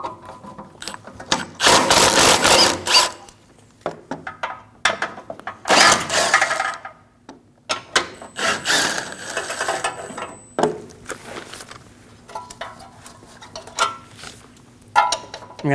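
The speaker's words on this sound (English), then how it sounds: "Loosen and remove all 4 bolts." A hand ratchet clicks in rapid bursts, loosening the front bumper bolts on a 2012–2022 Volkswagen Passat; loud, close ratcheting alternates with quiet gaps and small metallic handling sounds.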